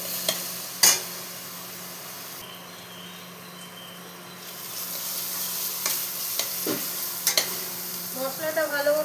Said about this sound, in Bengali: মশলাটা ভালো মতো কষিয়ে নিতে হবে।